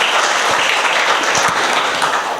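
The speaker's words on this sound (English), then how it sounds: "Please give them a round of applause, friends." Audience applause at a Don Bosco School inauguration ceremony in Shirva, a dense, steady crackle of many hands clapping that carries on for a few seconds.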